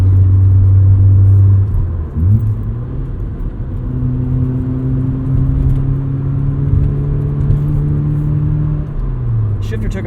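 A 1990 FC Mazda RX-7 rotary engine drones steadily while driving through the gears, with a loud in-cabin hum, pitch drops at shifts and a voice talking over it.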